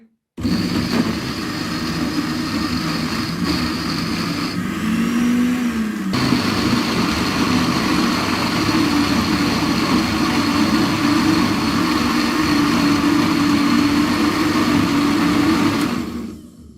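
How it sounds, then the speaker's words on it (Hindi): An electric grinder grinds cumin, turmeric and other spices for potato chutney, running as a loud, steady motor roar and whine for about fifteen seconds with a brief dip partway through, and no one talks. "व्यूअर्स, अब इन सब चीज़ों को मैं ग्राइंड कर लेती हूँ।"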